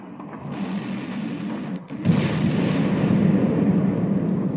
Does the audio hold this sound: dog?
no